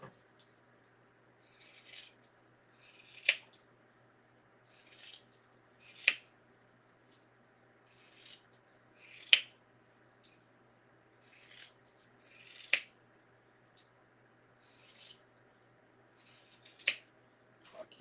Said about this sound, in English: And then I'm just going to cut my strips.